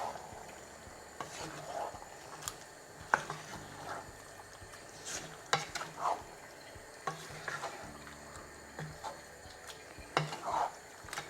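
Chicken, tomatoes and drained chickpeas are stirred together in one pan for a curry. A spoon clacks and scrapes against the pan in repeated bursts over a soft, quiet sizzle.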